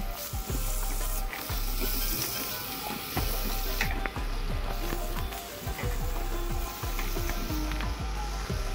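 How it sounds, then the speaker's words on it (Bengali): Washed bottle gourd pieces go into a pan of frying spice masala, raising a close sizzle with rhythmic scraping stirs repeating at a steady pace. "এখন আমি ধুয়ে রাখা লাউগুলো দিয়ে দেব"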